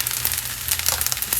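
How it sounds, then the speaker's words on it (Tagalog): Black pepper goes onto kimchi fried rice in a home kitchen, heard as a series of short, dry, crunchy grinding crackles, close and moderately loud, with no talking. "last but not the least, let's add black pepper on top"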